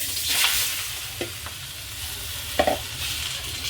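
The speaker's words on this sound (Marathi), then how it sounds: "एक चमचा मी तूप घेतले आणि ते गरम करायला ठेवले त्याच्यातच हे चार लवंगा टाकते आणि हे दोन दालचिनीचे तुकडे टाकते" Four cloves and two pieces of cinnamon sizzle in a spoonful of hot ghee, a soft continuous frying hiss close up, broken by a few sharp spoon clinks against the pan.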